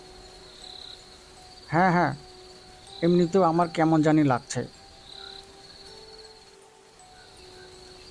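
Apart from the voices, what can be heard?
crickets chirping at night in rain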